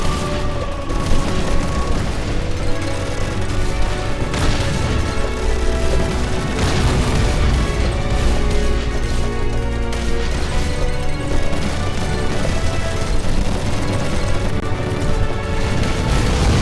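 Bomb blasts and rapid gunfire from the shoot-'em-up game Raiden V on the original Xbox One, a loud, dense wall of booms, crashes and shooting layered over game music, continuous for the whole stretch.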